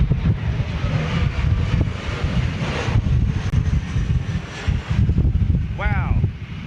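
A Flybe Embraer ERJ 190 or 175 jet on a high, fast approach gives a broad, distant roar, masked by gusting wind on the microphone, and someone talks over it.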